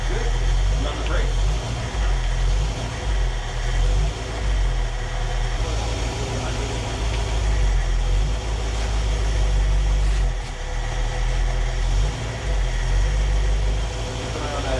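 A 1968 Mustang engine that sat for 30 years idles steadily after its first start, with a rough low rumble close by, and people talk over it at intervals.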